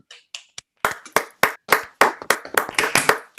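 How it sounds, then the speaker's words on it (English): Online meeting participants unmuting to applaud an honoree, a few sparse claps at first, then a series of separate bursts of clapping, each starting sharply and fading quickly, close and uneven as different microphones cut in and out. "we'll offer our first applause to the honoree this evening"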